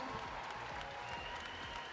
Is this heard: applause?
yes